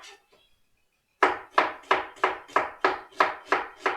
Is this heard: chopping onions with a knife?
yes